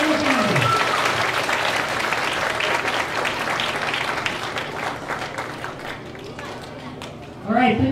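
Audience at a school talent show gives a steady round of applause that gradually thins out, with a voice briefly heard at the start and a speaker resuming at the very end.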